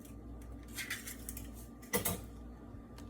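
An egg is cracked with a fork against a bowl in a home kitchen: a couple of light metallic taps, the second one sharper, over a quiet room.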